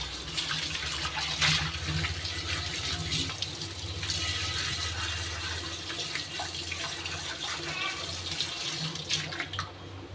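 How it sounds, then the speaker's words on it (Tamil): Hot water runs from a tap and is poured into an iron pan, a continuous splashing gush with small bursts and trickles, close by and steady for about ten seconds, with no talk. "இப்போ இதை வந்து வெண்ணி ஊற்றி இதில் ஒரு அஞ்சு நிமிஷம் வச்சுக்கோங்க"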